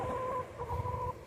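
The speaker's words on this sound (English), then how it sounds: "Crazy chickens." Chickens at a small backyard farm cluck in a steady, close run of calls for about a second, fairly loud against a little low background rumble.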